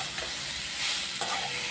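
Red lentils, soybean chunks and whole garlic cloves fry in a pan with steady sizzling and scraping stirs throughout, close and continuous with no voices.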